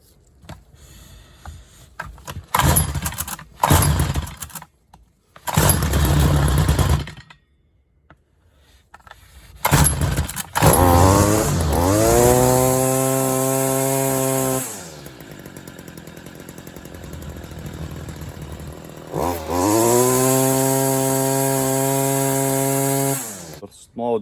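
A Stihl FS45 string trimmer with a poorly running two-stroke engine is pulled and sputters through several short, uneven bursts. It then catches and revs steadily at close range, drops off, and revs up again, with a faint voice in places.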